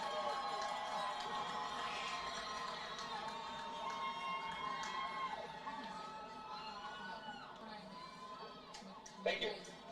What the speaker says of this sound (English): Let's give a big Ouachita round of applause for all of these